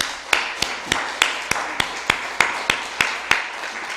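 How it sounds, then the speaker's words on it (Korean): Audience applause at a church service, ahead of a special musical performance by two church members: a steady run of sharp, evenly spaced claps, fairly close and continuous for the whole stretch. "박수하겠습니다."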